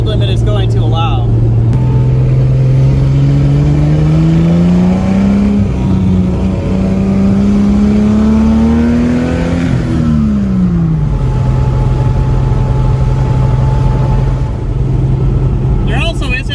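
Triumph six-cylinder engine in a TVR sports car pulling hard under acceleration, a steady loud drone that rises in pitch through a gear, drops back and settles, close and continuous.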